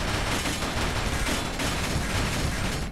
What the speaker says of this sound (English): how effective is it against small arms fire?